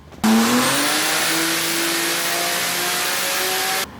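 A car engine revs up sharply and holds at a high, steady whine, the pitch climbing slightly before cutting off abruptly.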